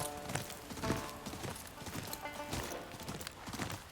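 Horse hooves clip-clop in Ghost of Yotei, a run of fairly quick, evenly spaced thuds heard close but at low volume with no speech.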